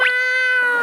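A person imitates a cat with one drawn-out, tonal meow, loud and close, sliding up at the start and holding steady.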